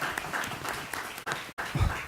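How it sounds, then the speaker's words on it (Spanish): At a panel discussion on political gender violence, the audience gives the two panelists a brief round of steady, close applause that dips for a moment and then carries on. "Un fuerte aplauso para nuestros 2 distinguidos panelistas"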